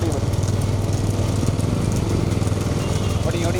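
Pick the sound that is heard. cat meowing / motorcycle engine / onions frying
motorcycle engine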